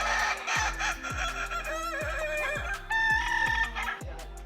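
A Kukuak Balenggek rooster gives a stepped, multi-tiered crow over a steady, evenly pulsing rhythmic backing that repeats about twice a second.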